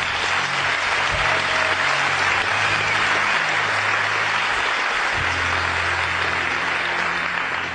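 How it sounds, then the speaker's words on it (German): Audience applause at a lecture hall talk, a dense steady wash of clapping from a large crowd that holds at full strength for several seconds without pause. "Applaus"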